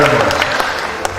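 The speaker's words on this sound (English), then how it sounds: "You will clap with the movement of my hand." Brief tail of applause from a conference audience at a closing ceremony, a short dense patter of clapping with a few sharper claps near the end.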